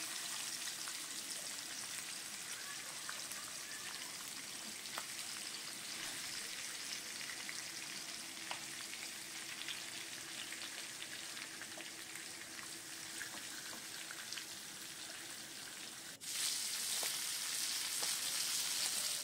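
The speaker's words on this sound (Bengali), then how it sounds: "এবার মাথাগুলো আমার ভালো করে ভাজা হয়ে গেছে।" Fish heads fry in oil in a wok with a steady, dense sizzle and crackle that holds throughout, growing slightly louder near the end; no voices.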